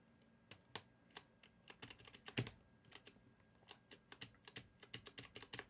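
A computer keyboard with adjusted keys is typed on, producing quick irregular clicks and clacks in short bursts, close and clear with no voices.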